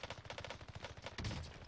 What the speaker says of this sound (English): just listening to the gunshots, watching it track